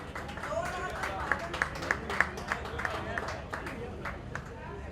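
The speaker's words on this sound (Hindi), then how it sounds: "एक बार जोरदार तालियां इन सभी के लिए।" An audience at a Punjabi music video launch claps in a loose, crowded burst, with an announcer's voice and crowd chatter running over the applause.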